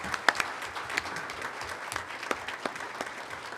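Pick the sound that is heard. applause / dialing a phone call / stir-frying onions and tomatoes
applause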